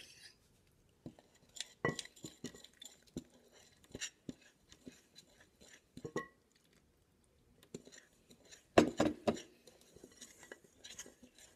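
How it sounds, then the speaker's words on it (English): Dry ingredients for fig bread being stirred into the liquid and oil in a bowl, with scattered clinks and scrapes of a utensil against the dish, brief and irregular, plus a louder burst of mixing near the end. "Now we're going to mix the dry stuff with the liquid."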